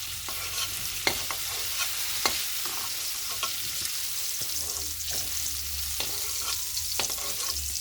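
Pumpkin pieces frying in mustard oil in a pan, a steady close sizzle with scattered scraping clicks as the food is stirred, running evenly throughout.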